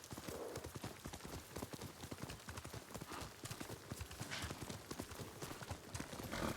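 In the Ghost of Tsushima video game, the horse Kage gallops at a fast, even rhythm. Hoofbeats clatter continuously at a moderate distance with no pauses, and no speech is present.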